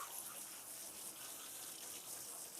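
Water runs steadily from a tap or sprayer while a poodle's coat is rinsed during grooming, a faint, even hiss with no voices.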